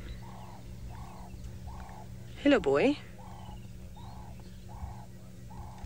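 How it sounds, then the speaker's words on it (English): Doves coo in a wildlife setting, a soft repeated hooting call at regular intervals over a low ambient hum, with a person briefly speaking in the middle. "I'm getting the doves now. I'm getting very excited. It sounds like one is trying to charm a lady."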